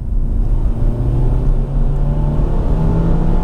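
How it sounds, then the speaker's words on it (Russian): A Kia Rio X-Line with a 1.6 engine pulls hard at full throttle, its loud, steady droning engine note heard from inside the car and rising slowly in pitch. "когда ты едешь, двигатель действительно очень громко работает"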